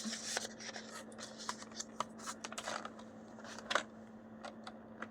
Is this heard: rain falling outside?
no